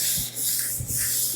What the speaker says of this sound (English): So I'm just gonna do a 320 and we'll sand the whole thing,